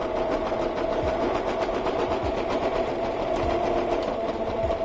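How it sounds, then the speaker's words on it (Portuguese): A sewing machine stitching a sofa blanket runs in a fast, steady mechanical chatter with a constant hum, close and continuous and uninterrupted, with no talk. "E vamos para a máquina de costura."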